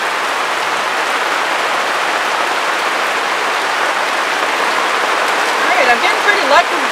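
Steady rain falls outdoors, a dense even hiss of drops on surfaces that continues without a break, with a brief faint thump near the end.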